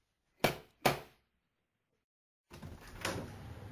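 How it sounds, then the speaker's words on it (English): Knocking on a house door: two sharp, close knocks, then a pause before a faint hiss of background noise. "A policewoman knocked at the door."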